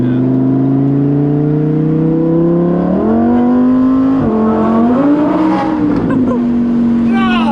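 A Lamborghini engine with factory exhaust revs loudly and steadily, its throaty exhaust rising and falling in pitch over several seconds, with a brief voice in the background.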